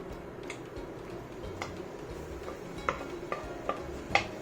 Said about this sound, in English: we're going to add the hardy vegetables, the longest to cook, which is the carrots